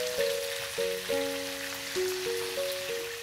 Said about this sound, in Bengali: কিছুক্ষণ ভাজার পর টমেটোটা দিয়ে দিচ্ছি